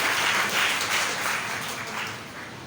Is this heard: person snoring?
no